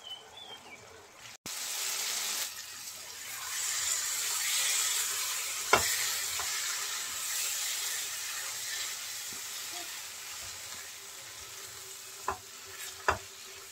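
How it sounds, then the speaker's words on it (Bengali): Ridge gourd fries in a pan in a home kitchen, a soft steady sizzle with a few sharp clicks of stirring, while birds call faintly in the background. "ধুন্দুলটা আমি বেশ ভালো করে ভেজে নিয়েছি"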